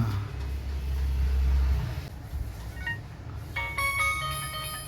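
Car racing game on a vintage Sony Ericsson phone, its tinny engine rumble droning steadily, then giving way to thin, electronic beeping tones toward the end.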